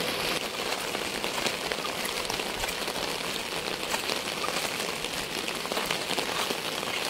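Heavy rain falls over a village in a steady, even hiss of countless drops, continuous and unbroken with no voices.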